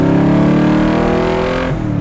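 A 1965 Shelby Daytona Factory 5 engine revs loud and close, a deep harmonic roar that holds steady and then drops off near the end.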